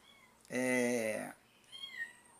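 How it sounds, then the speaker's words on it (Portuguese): An abandoned baby kitten meowing: one clear, drawn-out, high crying meow close by, followed by a fainter, shorter mew. "O gatinho tá chorando ali, que é o bebezinho, né?"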